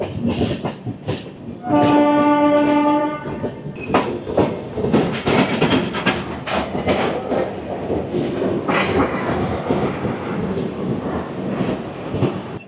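A Samaleswari Express passenger train pulls out of Jharsuguda Junction. The wheels clatter steadily on the rails throughout, and a loud sustained horn blast sounds near the start, all with no talking.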